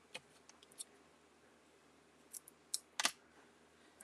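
Paper is trimmed with scissors for a watercolor mailbox greeting, faint crisp snips coming in small clusters over a quiet background, close and alone.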